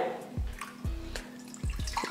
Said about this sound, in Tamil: இதில் தான் தண்ணி சேர்த்துக்க போகிறேன்.